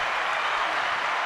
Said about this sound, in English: Let's give the ladies a round of applause.